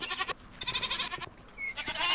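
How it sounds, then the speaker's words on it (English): Goats bleating in the video game Minecraft, several short nasal bleats in quick succession with brief gaps, fairly clear and unaccompanied by talk. "Oh my god, there's so many goats in here."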